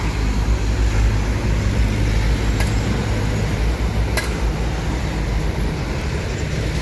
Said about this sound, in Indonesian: Lalu lintas terpantau lancar, padat sebelah sana ya.